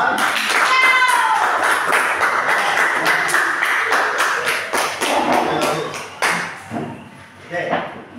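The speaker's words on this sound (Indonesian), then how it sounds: "Oke, tepuk tangan buat kelompok 3." A class claps for a student group, a burst of close, lively applause with sharp individual claps that thins into scattered claps and thumps, with voices chattering underneath.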